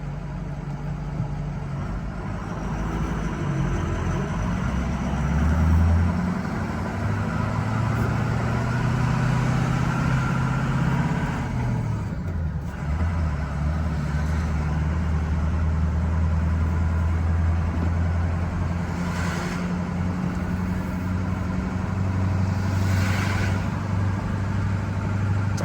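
A 2012 Ford F-350 service truck engine runs steadily on the road, its low drone loud and continuous throughout, with pitch shifting slightly as it works through gears.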